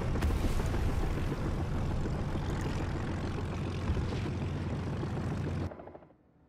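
An XP-50 fighter plane in the War Thunder video game, its loud, steady propeller engine drone filling the air close by before it cuts off abruptly near the end.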